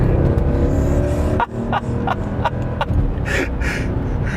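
A 500-horsepower Mercedes R63 AMG minivan accelerates hard, its engine a loud steady roar with rising tone and brief gear-change dips.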